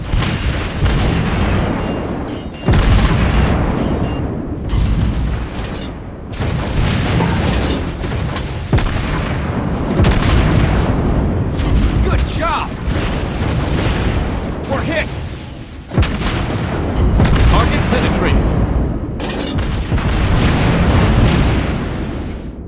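Naval artillery salvos and explosions from a World of Warships Blitz battle with the Tier 6 Soviet cruiser Admiral Makarov boom in heavy, repeated bursts, dense and loud throughout, with brief lulls and game voice callouts.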